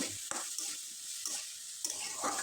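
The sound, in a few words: chopped potatoes being stirred in a pan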